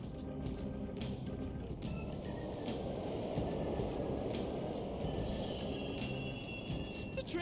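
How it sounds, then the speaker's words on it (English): Subway trains run in the Persona 5 video game, giving a constant low rumble with faint rhythmic clicks and a thin high squeal, steady and moderately loud throughout. "The trains are totally running."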